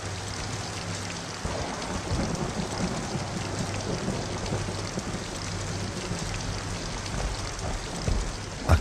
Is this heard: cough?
no